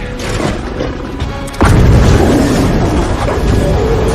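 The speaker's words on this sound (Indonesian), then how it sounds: "Martin menyalakan korek api miliknya yang menimbulkan ledakan." A sudden loud boom about a third of the way in, followed by a sustained low rumble that hangs over the rest of the clip.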